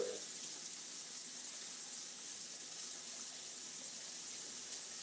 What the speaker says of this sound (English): Just waiting for this water to get a good temperature